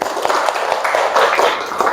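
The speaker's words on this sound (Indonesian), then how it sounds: "Tepuk tangan" A crowd of participants in an Indonesian classroom session claps together on cue, a dense steady patter of many hands lasting throughout, with faint voices mixed in.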